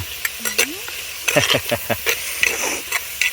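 A country chicken egg curry sizzles in the pan as curry leaves are stirred in, giving close, crackling frying noise and a series of quick scraping strokes. A short voice sound is briefly heard.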